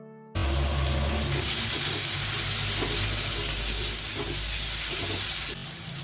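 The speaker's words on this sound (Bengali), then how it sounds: "এবার এই বাকি যে জিনিসগুলো কেটে রেখেছিলাম সেগুলো দিয়ে দিলাম তেলে।" Chopped vegetables drop into hot oil already crackling with cumin and mustard seeds, setting off a loud, steady, close sizzle that holds evenly for several seconds and eases slightly near the end.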